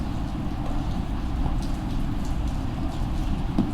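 Steady rain falls outdoors at a motorcycle dealership, a constant dense hiss of drops with no talk over it.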